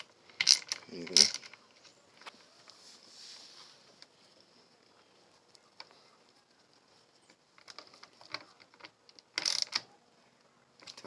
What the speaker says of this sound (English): Use a ratchet on this one